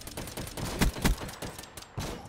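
Gunfire in Black Ops 3 punches through a wall as a quick burst of sharp shots, several close loud cracks in an uneven rhythm over faint background noise, with no talk.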